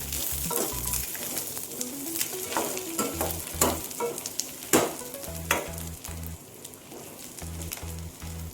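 Curry leaves and tamarind sizzle in a pan with repeated scraping and stirring strokes, an uneven rhythm of clinks and rustles over a soft frying hiss.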